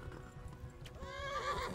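A horse clip-clops and then lets out a whinny in Kingdom Come: Deliverance, the hoofbeats soft under the sharper neigh that rises near the end.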